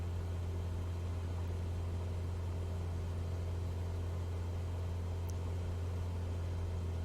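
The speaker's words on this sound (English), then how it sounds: "Let's turn that engine down a little bit." Steady aircraft engine hum from a plane in Microsoft Flight Simulator 2024 during a career-mode cargo flight, a constant low drone at cruise power, even and unbroken, no voices.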